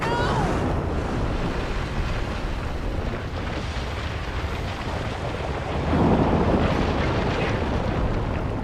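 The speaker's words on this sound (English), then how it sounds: "The building come down pretty smooth." A building collapses in RoboCop: Rogue City as a long, heavy, continuous rumble of crashing debris. It stays loud and dense throughout and swells near the end.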